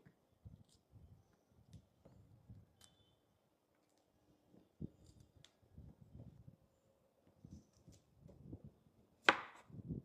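A knife chops cauliflower in quick bursts of soft thuds on a board, pausing briefly between runs, close and fairly quiet.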